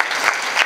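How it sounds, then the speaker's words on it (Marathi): Loud audience applause at a Marathi kirtan, a dense wash of many hands clapping together that swells twice in brief surges, with no voices over it. "टाळी जोरात"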